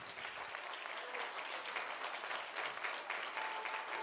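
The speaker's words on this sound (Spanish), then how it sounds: "Fuerte el aplauso, porque están en Dark Side" Audience at a rock concert applauds steadily, a continuous dense crackle of many hands, fairly distant and faint, unbroken across the whole span.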